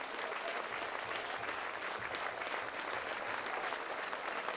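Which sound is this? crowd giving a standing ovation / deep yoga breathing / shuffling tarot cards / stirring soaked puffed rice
crowd giving a standing ovation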